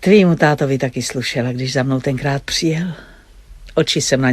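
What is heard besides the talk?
No everyday noises stand out.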